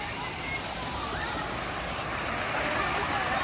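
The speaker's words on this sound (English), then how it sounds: "there's waterfalls everywhere." Resort pool waterfall at the Hilton Hawaiian Village in Honolulu, a steady broadband rush of falling water that stays dense and constant, growing slightly louder toward the end.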